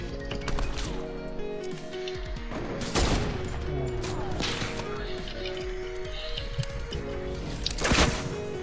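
Rocket blasts in Fortnite: Battle Royale, two sharp, loud booms a few seconds apart over a steady bed of game music and battle noise.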